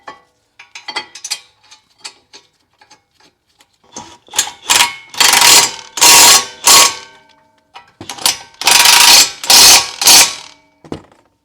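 Ratchet cranking 18mm caliper bracket bolts back onto a 2013-2019 third-generation Ford Escape during front brake work, first in sparse light clicks, then in several loud bursts of rapid ratcheting close by, with no talk.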